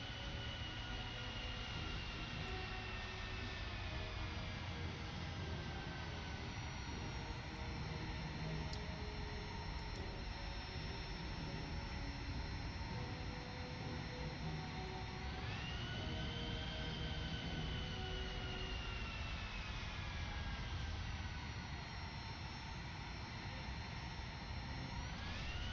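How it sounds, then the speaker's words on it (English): Steady, loud jet engine roar from an aircraft coming in to land with flaps down and air brake extended in the War Thunder video game, with engine pitch shifting over a long stretch and no talk. "Flaps down, air brake extended, bitch. It's going for a smooth landing here, boys."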